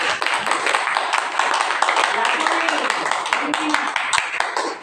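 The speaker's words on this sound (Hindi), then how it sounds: "ताली बजाओ जोर" An audience claps loudly and steadily at a Brahma Kumaris spiritual talk, a dense patter of hands running the whole time beneath a voice.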